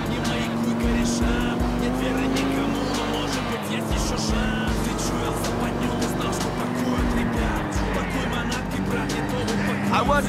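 A car drives in GTA IV, its engine droning and shifting pitch with tire noise and brief squeals, loud and continuous throughout, with a voice talking over it.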